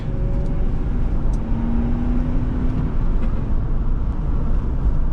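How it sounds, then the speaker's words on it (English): Steady road noise from inside a 2004 Ford Explorer with a 4.6L V8 cruising along a back road, a constant low engine drone and tire rumble with a faint rising whine. "let's do a little bit of backroad driving before we head back"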